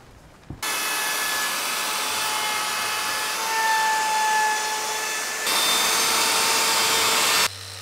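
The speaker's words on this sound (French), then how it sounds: "Tu brises les bords avec une défonceuse." A router trims and rounds the edges of a wooden board, making a loud, steady whine that holds for about seven seconds, then cuts off abruptly.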